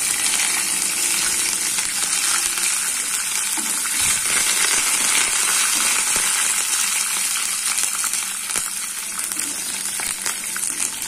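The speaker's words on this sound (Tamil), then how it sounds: "கடுகு பொரிய ஆரம்பிச்சிருச்சு." Mustard seeds, dried and slit green chillies and curry leaves fry in hot oil in a pan for mango rice, making a loud, steady sizzle with crackling pops throughout and no talking.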